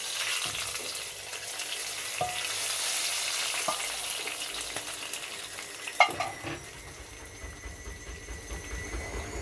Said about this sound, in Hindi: तो इस वजह से मैं देसी घी का तड़का लगा रही हूँ इसमें।